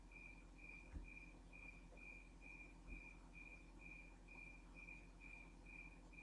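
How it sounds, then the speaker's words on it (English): Crickets chirp steadily at night in a remote rural spot, a clean high pulsing trill repeating at an even rhythm over faint low ambient rumble, with a couple of soft thumps nearby. "Do you hear the crickets?"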